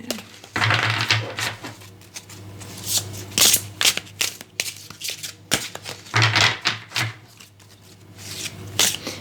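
Tarot cards being shuffled for a nine-card love reading, with repeated crisp riffling and flicking bursts close by, alone and without talk.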